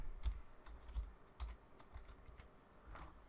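Keys tapped on a computer keyboard to enter a motor tag label in C-more touch panel software, a handful of soft, irregular clicks close by in a quiet room, with no talk.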